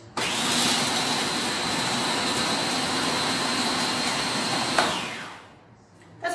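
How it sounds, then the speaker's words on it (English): A blender whirs loudly and steadily for about five seconds, then winds down and stops, followed by a brief clatter. "I only whizzed these up for a little while, so I've just got my blender"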